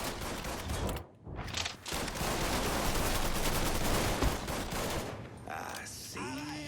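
Sustained volleys of gunfire from a Mafia video game shootout roll on almost without a break across the clip, loud and dense, with a brief lull near the start and a tail of mechanical clatter at the end.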